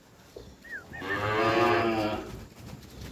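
A cow gives one long, loud, close moo in a cattle herd being worked for vaccination, rising and holding for about two seconds, with no talk over it.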